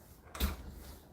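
A door being pulled open, heard as one brief, fairly loud thud-and-scrape with a low knock, followed by quiet room tone.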